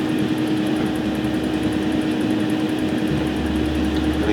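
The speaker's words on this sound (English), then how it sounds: "I'm just going to turn on my extractor, so excuse the noise." A steady mechanical whir of a fan running continuously, fairly loud and close, with a constant low hum and no speech.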